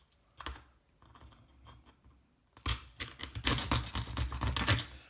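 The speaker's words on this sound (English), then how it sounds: "we need to split the lobster tails right down the middle with either a good strong knife or a good pair of kitchen shears" Kitchen shears snipping through a lobster tail shell, heard as faint scattered clicks that give way to a denser run of loud, close crunching cuts and cracks.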